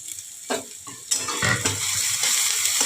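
Onion frying in a pan with chopped green chilli, garlic and ginger, a close bright sizzle that starts in bursts and settles into a steady crackle, with a few soft knocks at the start.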